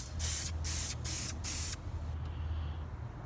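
Spray paint hisses onto a car bracket in several loud close bursts, four short sprays in quick succession followed by quiet.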